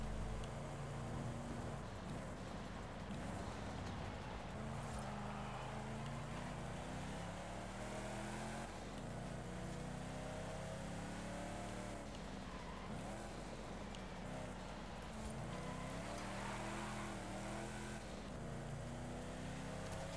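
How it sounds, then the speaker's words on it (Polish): A Lotus Esprit V8 engine runs continuously, a steady rumbling drone with rising and falling revs, heard from inside the car over road and tyre noise, with no talking. "O, ta V8 brzmi."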